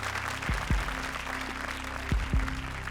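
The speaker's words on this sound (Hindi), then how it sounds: "जोरदार तालियां कुलदीप और शयांतनी के लिए" A studio audience on a TV comedy show applauds faintly and steadily, with a few soft low thumps breaking through the quiet clapping.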